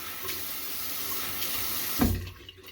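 Bathroom tap running into a sink while preparing to shave, a steady close hiss of flowing water that swells with a splash near the end before easing off.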